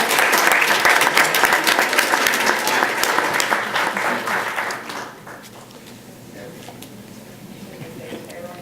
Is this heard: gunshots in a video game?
no